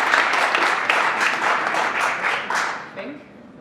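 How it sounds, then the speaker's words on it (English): Crowd at a professional bowling match applauds and cheers loudly and steadily, broad clapping noise sustained before trailing off near the end. "Listen to this crowd."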